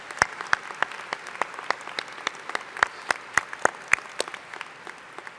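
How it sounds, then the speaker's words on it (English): An audience at an engineering school commencement claps steadily, the applause sharp and fairly close, with individual claps standing out as it continues. "Please join me as we applaud their support of and dedication to our students."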